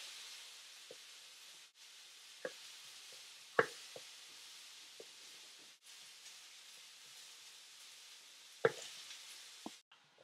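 Strips of pork and chicken fajita meat cook in a pan, giving off a soft, steady sizzling hiss with occasional light clicks and clatter from the pan.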